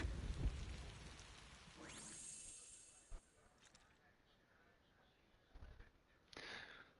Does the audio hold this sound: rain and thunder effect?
yes